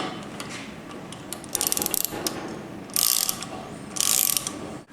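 A drill bores into a spark plug hole in an engine cylinder head, with two short, loud grinding bursts standing out over a low mechanical ticking background.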